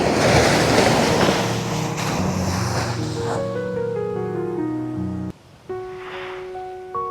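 Sea waves at a Kerala beach, a broad roaring wash of surf with wind buffeting the microphone, loud and close at first, then easing off under steady background music tones.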